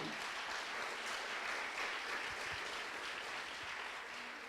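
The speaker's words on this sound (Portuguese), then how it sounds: "aplaude essa palavra poderosa" A church congregation applauds after a Bible reading at a preaching event: an even, continuous wash of clapping from many hands, moderately distant and steady for several seconds.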